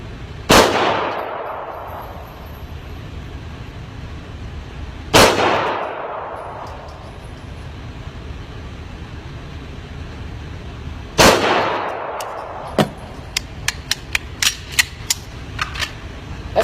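A pistol is fired at a target 25 yards away on a range: three loud, sharp shots spaced several seconds apart, each with a ringing echo, followed by a run of light metallic clicks.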